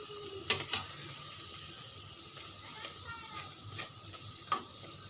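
Bread slices frying slowly in a pan, a faint steady sizzle with a few sharp ticks and pops, quiet and close, with no talking.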